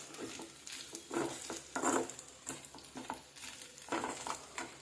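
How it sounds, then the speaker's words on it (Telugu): Pasta with noodle masala and garam masala is stirred in a hot pan, the spoon scraping in rhythmic strokes over a soft, continuous sizzle, close and fairly quiet. "కొంచెం నూడిల్స్ మసాలా వేసుకొని కొంచెం గరం మసాలా వేసుకొని కలుపుకోవాలి"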